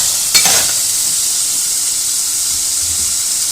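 Minced meat and tomatoes frying in ghee, making a loud, steady, close sizzle with a brief stir near the start and no talk.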